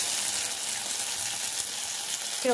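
Paneer butter masala paste with cashew paste sizzling in a kadai, a soft, close, steady frying hiss with fine crackle at low volume.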